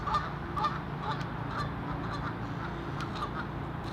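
Several Canada geese honk repeatedly at a moderate distance, overlapping calls over a low background rumble, with no one speaking.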